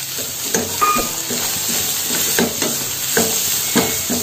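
Cooked chicken seasoned with salt, turmeric and pepper powder is stirred into a spice mixture frying in a pan, giving a steady loud sizzle broken by repeated scraping and stirring strokes, with no talking.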